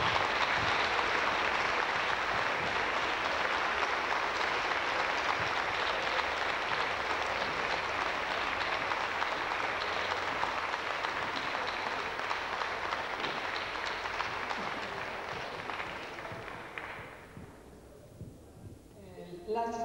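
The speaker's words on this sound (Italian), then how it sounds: "con un grande applauso" Loud sustained applause from an outdoor concert audience at Parco Magnolia in Abano Terme, continuous clapping that fades out toward the end as a voice begins speaking.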